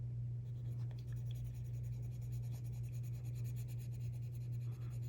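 Cadmium orange colored pencil shades paper in a steady, close, continuous scratchy rasp of quick strokes, with a low electrical hum running underneath.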